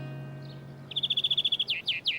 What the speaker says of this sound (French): Oiseau, oiseau.